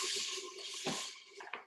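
Water poured from a container into a pan warming on the stove beside a diced onion, a steady soft splashing rush with a brief dribbling spatter near the end.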